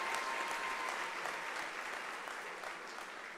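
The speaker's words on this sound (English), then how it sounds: "Colleagues, I believe that deserves another hand of applause," Applause from colleagues at a university academic year opening ceremony, a broad steady sheet of many hands clapping, distant and even, slowly fading toward the end.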